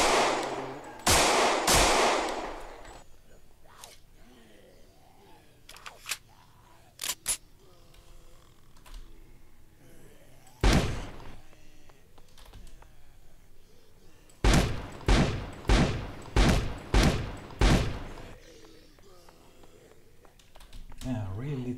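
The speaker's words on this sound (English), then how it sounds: "Shots." Gunfire in the zombie survival game Project Zomboid: a couple of early shots, scattered single blasts, then a rapid run of about six evenly spaced shots, loud against a quiet background, with a player talking in between.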